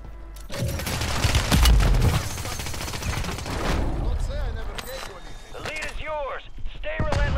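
Heavy automatic gunfire in Call of Duty roars loud and continuous with booming impacts, then thins into scattered shots and swooping electronic effects, while voices talk over the action.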